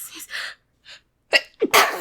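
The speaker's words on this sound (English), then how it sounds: "I'm gonna sneeze." A person sneezes once, loudly and close, after a few sharp gasping inhales that build up to it.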